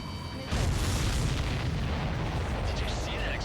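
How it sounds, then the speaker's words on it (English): Explosion in the aerial combat game Ace Combat 7, a sudden loud boom that swells in at once and rolls on as a sustained, heavy rumble for a few seconds. "Did you see that explosion?"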